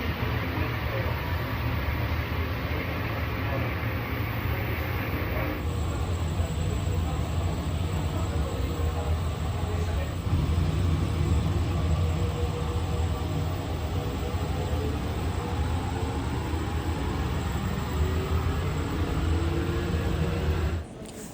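Inside a moving airport tram, a steady low rumble and whirring hum carry on evenly for the whole ride, with a brief shift in tone partway through.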